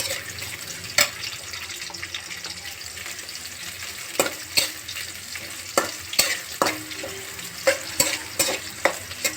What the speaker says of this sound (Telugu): కొద్దిగా వేగుతానే మనం ఆనియన్స్ వేసేస్తాము. ఇది కూడా బాగా వేగాలండి.